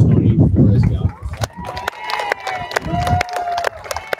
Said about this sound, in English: let's give a round of applause for Tony Flores Galvez.